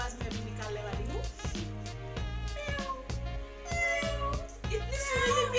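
A person imitates a cat with a string of drawn-out, wavering meows over a steady rhythmic beat.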